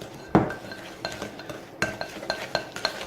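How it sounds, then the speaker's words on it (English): Cookie dough ingredients for chocolate chippers lightly mixed in a bowl, a series of clinks and scrapes of a utensil against the bowl at irregular intervals, close and moderately loud. "I'm just going to kind of lightly mix this up"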